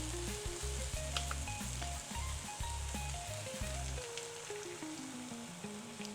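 Seasoned chicken with sauce added sizzles steadily in a pan, a soft continuous hiss under a low, stepped musical drone from background music. Nobody speaks.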